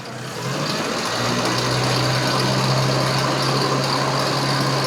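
Engine of a Mini car being run up through its rev range during tuning, a loud, close, continuous engine drone that rises early and then holds steady, with no talking.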